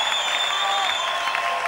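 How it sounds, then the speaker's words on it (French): A church congregation applauds and cheers with dense, steady clapping and a bright crowd roar under faint voices, loud and continuous throughout. "je voudrais que vous puissiez me le montrer par des cris de joie, par des acclamations"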